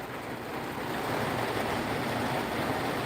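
Ocean surf recorded in the morning, a steady broadband wash of rolling waves with a continuous even roar and no voices.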